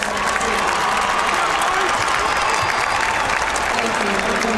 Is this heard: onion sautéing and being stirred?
no